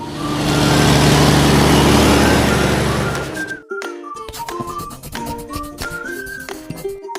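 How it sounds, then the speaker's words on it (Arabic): A freight truck engine runs loud and close with a rough, droning rumble for nearly four seconds, then cuts off abruptly as a light melody continues. "فريت تراك شاحنة،"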